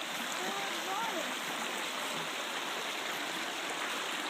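Water in a creek flows steadily along a nature hiking trail, giving a constant broadband rush that lasts the whole stretch. Faint voices sit underneath it.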